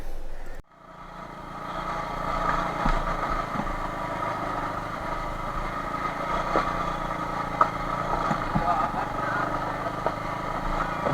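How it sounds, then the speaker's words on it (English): A Bajaj Avenger 220 motorcycle on new Ralco tires carries a pillion up a steep off-road hill in Aarey Colony, Mumbai, its engine droning loud and steady with slight surges. "let me check if my Bajaj Avenger 220 with the new Ralco tires manages to"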